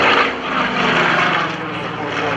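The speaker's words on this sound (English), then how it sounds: "This airplane that you're seeing is one of the original airframes that launched the Confederate Air Force" A vintage F4U Corsair, a WWII propeller fighter flying at an air show demonstration, drones loudly and steadily overhead with a continuous rough engine roar that swells and eases slightly.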